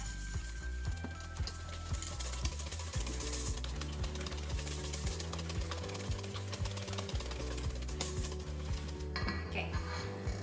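Cookie dough made without flour or sugar and sweetened with xylitol is stirred in a bowl, giving steady scraping and light clinking of the utensil under continuous background music.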